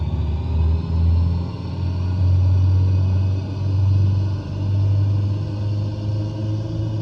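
Cessna 140 piston engine at full throttle in Microsoft Flight Simulator, a steady low droning rumble that pulses gently in level, moderately loud and alone.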